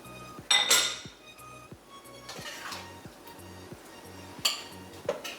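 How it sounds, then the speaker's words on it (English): Dishes and cutlery clink as pork onion curry is served onto a platter in a home kitchen, with bright metallic and glassy chinks over a faint rhythmic ticking hum. "I'll take it out in a serving platter."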